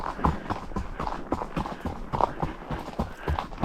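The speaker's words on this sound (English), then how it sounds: "Always nice to end with a little bit of canter." A horse cantering on a shaded summer trail gives rapid, rhythmic hoof beats, close and continuous throughout, with no talk.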